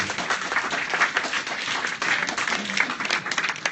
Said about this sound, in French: Ça mérite d'être applaudi.